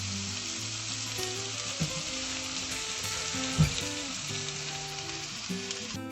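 Tomatoes sauté in hot oil in a pan for Sri Lankan coconut milk soup, giving a continuous close sizzle with occasional soft stirring knocks.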